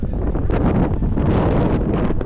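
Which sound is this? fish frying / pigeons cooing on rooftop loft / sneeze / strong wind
strong wind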